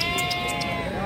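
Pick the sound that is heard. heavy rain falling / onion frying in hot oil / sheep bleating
sheep bleating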